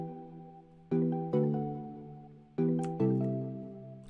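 Sustained hyperpop synth chords swell in with sharp attacks, two pairs of chord hits that each fade slowly, bright and electronic with no talking.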